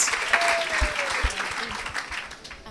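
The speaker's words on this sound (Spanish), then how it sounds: "dale un aplauso a Holyfield" At a church panel, an audience breaks into brief applause for a guest named Holyfield, steady clapping with a voice partly over it, tapering off toward the end.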